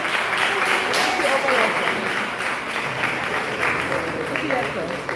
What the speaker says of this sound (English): Let's cheer them on, everybody.